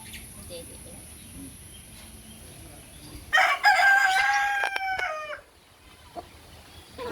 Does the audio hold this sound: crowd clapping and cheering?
no